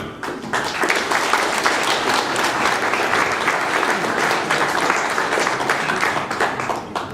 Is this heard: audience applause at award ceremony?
yes